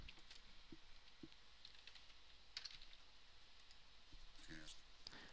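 Light typing on a computer keyboard: scattered soft key clicks and taps, faint and irregular, over a steady background hiss.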